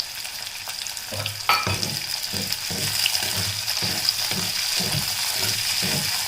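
Garlic, green chilies and curry leaves fry in hot oil in a pan, a loud, close, continuous crackling sizzle with rhythmic stirring strokes pulsing about every half second.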